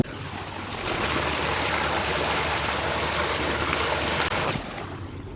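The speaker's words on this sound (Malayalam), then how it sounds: "താഴോട്ട് ഇറങ്ങി കഴിഞ്ഞാൽ ചെറിയൊരു തോട" A small stream spills over a little waterfall in a natural spot near Kanyakumari, giving a steady, fairly loud rushing wash that holds evenly and then eases off at the end.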